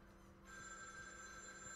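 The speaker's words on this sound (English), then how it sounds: "Yeah, phone ring." An in-game telephone ringing in The Evil Within 2, a steady electronic bell tone that starts partway in and holds continuously, fairly quiet.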